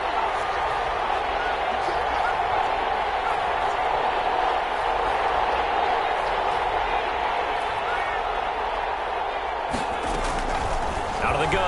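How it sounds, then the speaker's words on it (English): Football stadium crowd roaring steadily through a big third-down play, a dense sustained wall of cheering with scattered shouts, staying loud throughout and swelling near the end. "the crowd getting into it as we come up on a big third down"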